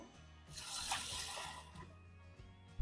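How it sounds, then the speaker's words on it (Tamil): Hot water is poured into a bottle at home, a steady broadband pour that swells in the middle and trails off, with no talk. "ஹாட் வாட்டர் இருந்துச்சுன்னா ஹாட் வாட்டர் ஊற்றிக்கணும்."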